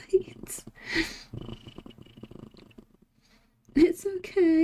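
Heavy purring from a cat that comes with small gag-like sounds, close and uneven, broken by short pauses, while a person talks over parts of it.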